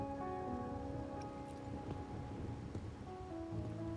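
Steady rain falls in a video game scene set in Raguna, a constant soft wash of drops with faint rumbles, over quiet background music, with no voices.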